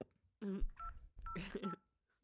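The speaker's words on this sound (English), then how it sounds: "Stop dialing." Telephone dialing tones sound in two clear bursts of beeping keypad tones, close and fairly clean against a quiet background.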